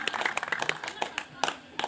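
Scattered audience clapping at a fourth-anniversary gathering of a WRI chapter in Ranah Minang, a few faint, irregular hand claps mixed with background talk.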